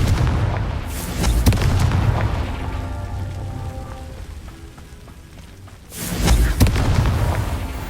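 A Confringo fire spell explodes in the Hogwarts Legacy video game: two loud, booming blasts with crackling bursts, one near the start and another near the end, separated by a lower rumbling stretch.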